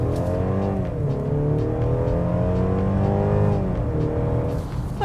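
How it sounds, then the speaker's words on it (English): A 2022 Mercedes-Benz C300 in Sport Plus mode is accelerating hard from a standstill. The engine climbs through its revs, with audible upshifts and a steady, strong drone close to the cabin, and no voices over it. "So I'll hit the Sport Plus button, foot to the ground."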